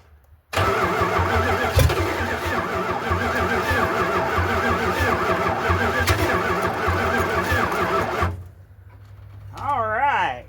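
A 1978 Dodge D-200 truck engine cranks and catches, running loud and steady for several seconds before cutting off; a voice follows briefly afterward.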